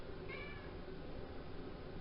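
A house cat gives a single short meow early on, faint against a steady low background hum, with no talking.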